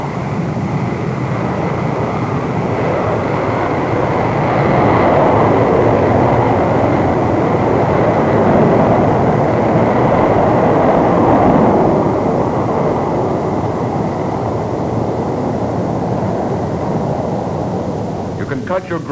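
A B-47 Stratojet bomber's jet engines roar at full throttle near a runway, a loud continuous broadband rumble that swells in the middle and then eases slightly.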